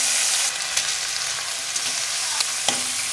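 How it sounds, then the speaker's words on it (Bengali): Chicken pieces sizzle in a pan with ground cumin and spice paste while being stirred, a steady frying hiss with a few sharp scraping clicks from the spoon, close and moderately loud. "ভালোভাবে নাড়াচাড়া করে গায়ে মশলাটা মাখিয়ে নিতে হবে।"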